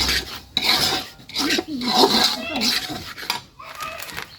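Semolina frying in ghee in a large pot for a village halwa batch is scraped and stirred with a utensil, giving close rasping and rubbing strokes, while a voice speaks faintly.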